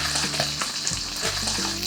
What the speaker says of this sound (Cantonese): 翻過嚟繼續煎另外一面啦